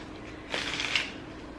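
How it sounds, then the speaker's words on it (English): Small Minnesota-themed M&M playing cards being quickly shuffled by hand, a brief papery riffle burst near the middle, close and fairly soft, with no talking. "So I have my cute little Minnesota M&M cards that I will quickly shuffle."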